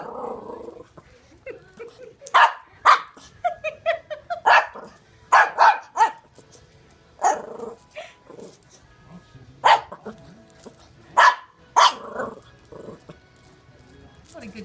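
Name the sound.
dog barking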